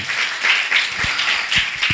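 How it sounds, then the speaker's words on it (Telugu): A church congregation claps loudly during a Christmas worship service, a dense, continuous wash of many hands with rhythmic swells, close and full, with no talk over it. "గట్టిగా చప్పట్లు కొడుతూ దేవుణ్ణి మహిమపరుద్దాం"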